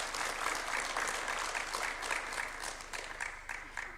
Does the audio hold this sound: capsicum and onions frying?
no